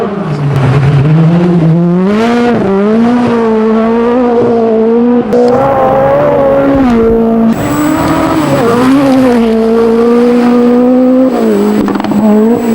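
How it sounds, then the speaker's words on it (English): The Peugeot 205 T16, a mid-engine turbocharged four-wheel-drive Group B rally hatchback, snarls loudly and close with rising and falling revs, bursts of throttle and a touch of tire squeal, continuous throughout without voices. "This is the Peugeot 205 T16, the tiny French hatchback that became one of rally's most terrifying weapons."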